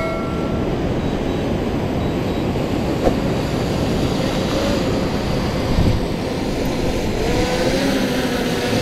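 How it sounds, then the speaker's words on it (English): A fishing drone returns overhead after dropping its bait, a steady loud broadband whir lasting throughout with no one speaking. "drone has just come back"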